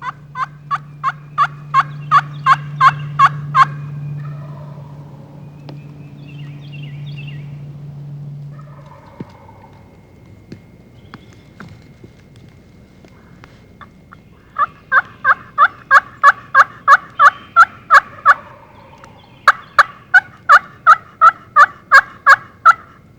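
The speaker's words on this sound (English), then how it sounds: "This old gobbler is in love with the sweet sounds David is making on his favorite call" A wild turkey gobbler gobbles loudly in spring woods, long rapid strings of sharp rattling pulses repeating in bursts, with quiet gaps and a low steady hum early on.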